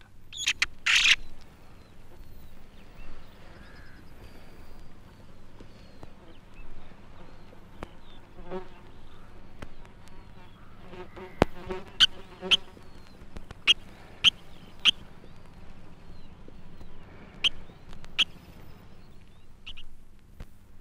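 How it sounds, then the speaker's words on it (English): A fledgling blackcap calls for food in a summer woodland, repeated thin sharp notes that grow more frequent in the second half, over a quiet, steady hum of buzzing insects. "A fledgling blackcap calls for food against a background of insect sound"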